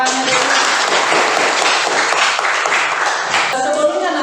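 Loud, close applause in a classroom, students clapping together in a busy, continuous burst that tapers briefly before picking up again.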